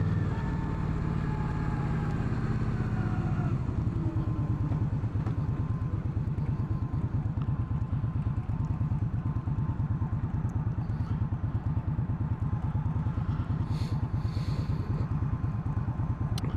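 An Indian Scout Bobber motorcycle with its 1130cc engine runs at a low, even idle, a steady rhythmic putter that starts slightly fuller and settles into a smooth rumble close by, with no voices.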